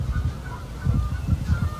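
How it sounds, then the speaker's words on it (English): Two ducks squabbling in a park, giving repeated harsh honking calls in quick bursts, close and fairly loud with no talk over them. "now there's like 2 ducks fighting"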